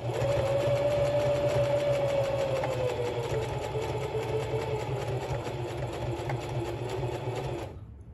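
A Singer Heavy Duty sewing machine runs steadily while stitching a ski muff, its close motor whir holding a continuous tone that drifts slightly lower before stopping abruptly near the end.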